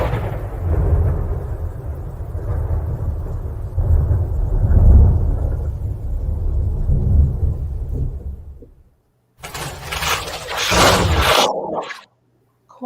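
A thunderstorm sound effect rumbles loud and heavy for several seconds, then cuts out and returns with a sharp, bright crack before falling silent.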